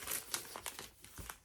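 Parchment paper from a monthly baking kit crinkles and rustles in a run of short, close crackling bursts, loud and crisp with no talking.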